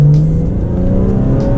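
Engine of a modified BMW 340i M Sport, loud and steady from inside the cabin, a continuous drone with a gear change as revs settle and hold.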